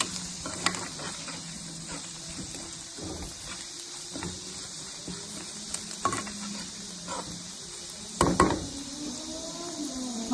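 Mashed boiled potato is mixed into a frying pan for elath kanda palya, heard as faint, soft scraping and stirring with a quiet sizzle beneath and a louder clatter near the end.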